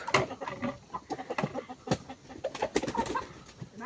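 Chickens cluck and scratch close by in quick, irregular bursts, with sharp peck-like clicks and light rustling.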